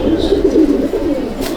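A pair of Madras pigeons in a loft, giving low soft cooing in a short, close, continuous burble.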